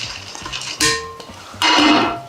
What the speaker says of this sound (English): you're going to add your rice to the bowl